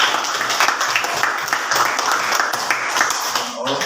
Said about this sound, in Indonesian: Tepuk tangan yang kuat.